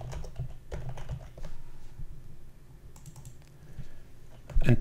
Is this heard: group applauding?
no